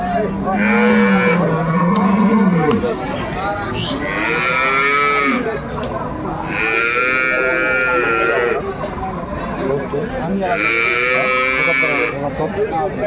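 Several long, loud moos from dairy cows sound one after another, with other cattle lowing close by amid the busy noise of a crowded livestock market in Dinajpur.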